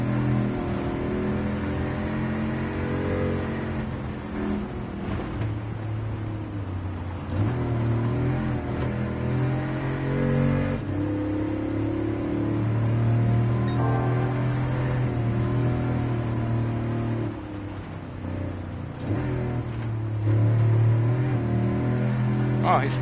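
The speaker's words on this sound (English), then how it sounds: "Pretty cool to drive on this dirt track." A pickup truck's engine drones and revs on a dirt track in Gran Turismo 7, climbing and dropping through gears over a steady rumble, with a voice talking over it.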